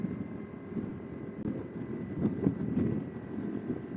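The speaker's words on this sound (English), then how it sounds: "It's a bit windy today." Wind buffets the microphone during a ride on a Kawasaki Ninja 250RR motorcycle on a sunny, windy day, a steady low rumble with gusty swells throughout and no talking.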